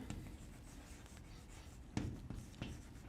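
Chalk or marker writing on a board during a physics lecture, faint scratchy strokes with a few sharper taps, irregular and close, without speech.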